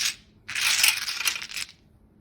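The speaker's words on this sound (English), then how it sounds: "The tiles are placed face down and are mixed by shuffling and moving the tiles around to mix them." Mahjong tiles lying face down on a table are shuffled and pushed around. They make a close, dense clattering rattle of clicking tiles that lasts about a second, with no talking.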